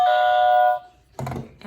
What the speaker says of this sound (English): It's a very basic trivia game, and we got these little buzzers.